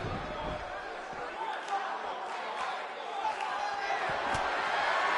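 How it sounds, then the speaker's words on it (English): An animated crowd at a WWE NXT wrestling show in Orlando keeps up a steady roar of cheering and chatter throughout, with occasional louder swells and a commentator talking over it. "We've got an animated crowd here tonight, as we usually do when we're in Orlando"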